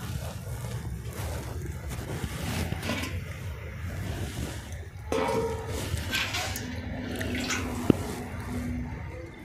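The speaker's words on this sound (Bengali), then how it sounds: "এবার অল্প অল্প করে জল দিতে থাকবো।" Small amounts of water are poured bit by bit into spinach luchi dough in a bowl, with soft splashing and trickling plus faint clinks, quiet throughout and growing slightly busier toward the end.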